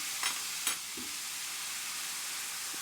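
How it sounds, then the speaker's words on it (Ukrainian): Steady frying sizzle fills a pan as soy sauce is poured in for meatballs in sauce, with a couple of brief clinks and scrapes early on, close and fairly quiet, no voices. "Тепер я додаю одну столову ложку соєвого соусу."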